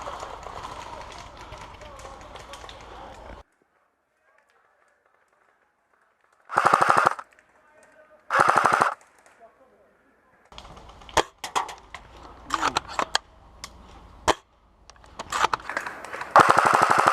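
Airsoft guns firing during a prison camp game: several sharp bursts of rapid shots, some close and loud, with scattered single shots and quiet stretches between.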